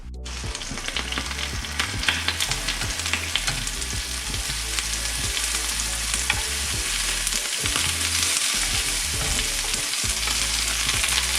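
Vegetables for a tomato and mozzarella panini fry in a pan with a loud, constant sizzle and crackle, close and unbroken, with occasional stirring scrapes and no talk.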